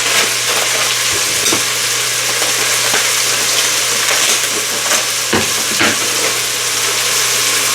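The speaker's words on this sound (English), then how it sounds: "what I'll be doing is glazing those onions" Onions cut into larger pieces frying in a pan, a steady close sizzle with occasional stirring scrapes, no voices over it.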